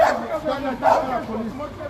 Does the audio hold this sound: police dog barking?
yes